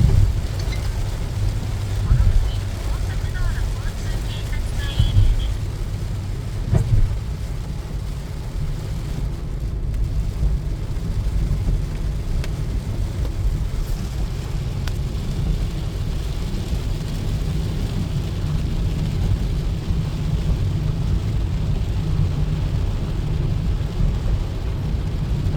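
Typhoon wind roars outdoors in a constant low, heavy rumble with buffeting against the microphone and a wash of rain, unbroken throughout.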